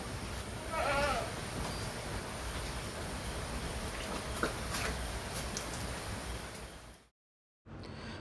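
A goat bleats briefly near the start amid steady outdoor background noise, followed by a sudden short cutout before the ambience resumes.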